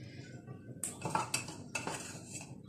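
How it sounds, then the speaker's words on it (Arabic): A metal spoon clinks and scrapes against a dish as salt, coriander, cumin and garlic are added for a seafood dish, a few sharp irregular taps and clatters, close and fairly quiet. "تعالوا بقى نحط البهارات بتاعتنا"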